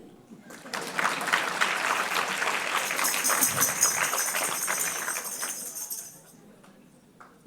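Applause from a large audience at a Swaminarayan religious discourse, building quickly into sustained crowd clapping with a hissy bright edge, then fading out toward the end.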